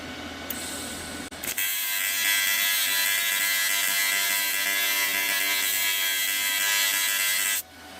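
TIG welding on cast iron with an AC/DC 201 welder: a steady, loud electric buzz and crackle begins after a brief start and holds nearly constant for about six seconds before cutting off.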